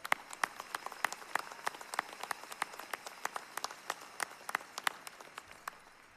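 Sparse applause from a commencement audience welcoming a graduate's family, individual claps spread out and fairly steady, moderately loud in a large hall.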